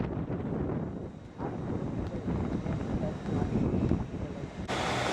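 A Class 170 diesel multiple unit arriving from York at Leeds station gives a steady, loud rumble with broadband roar throughout, rising slightly toward the end before a brighter hiss cuts in.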